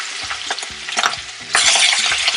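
Goat meat goes into hot oil and fries, with close spoon clatter and stirring knocks, then a louder, denser sizzle swelling midway; no one talks.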